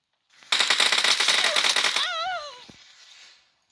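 Automatic gunfire in a video game, a dense rapid burst of loud shots lasting about a second and a half, then a short ringing tail and fading echo, close and with no talk over it.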